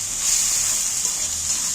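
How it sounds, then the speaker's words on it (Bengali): Spice paste frying in oil in a pan, a continuous bright hiss of sizzling oil, close and steady for the whole short stretch, with one faint knock near the end. "দেখো মশলাটা ভাজা ভাজা হয়ে গেছে মশলা দিয়ে তেল ছেড়ে দিয়েছে"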